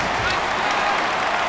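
Stadium crowd noise from a Madden NFL 19 game between the Oakland Raiders and Pittsburgh Steelers, a brief steady wash of distant murmuring and cheering with no distinct claps.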